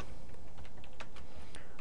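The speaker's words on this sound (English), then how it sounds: "let me type it right there" Quick, close clicking of keys being typed on a computer keyboard, irregular light taps over a steady background hum.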